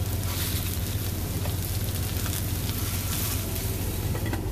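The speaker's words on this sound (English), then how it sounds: "Get your burgers, put them right in the skillet" Herbal turkey burgers in a skillet give a steady, dense sizzle with a low hum beneath, constant and close throughout without pauses.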